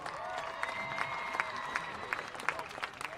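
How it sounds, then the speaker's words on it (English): A crowd in a football stadium claps and cheers steadily for a state-championship dance team from the Hoopla division, with scattered whistles rising above the sustained applause. "Let's give the team a big round of applause."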